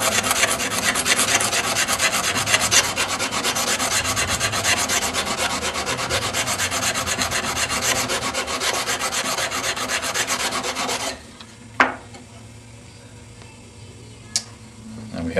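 A blade held in a fixed-angle jig is stroked rapidly back and forth on a 220-grit sandpaper block, producing a fast, even rasping scrape for about eleven seconds, then stopping with a couple of light clicks and taps.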